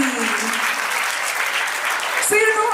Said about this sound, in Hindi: पहले तो हमारे ऐसे डायरेक्टर सर के लिए जोरदार तालियां होनी चाहिए।